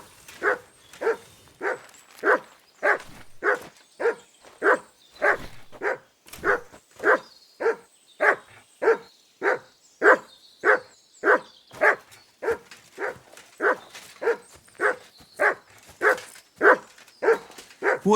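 Dog named Mutt in Kingdom Come: Deliverance II barking in a steady, evenly spaced series of about thirty sharp barks at moderate volume, with no talking over them.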